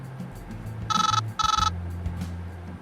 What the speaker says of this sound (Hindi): इतने में मम्मी का फोन बजा।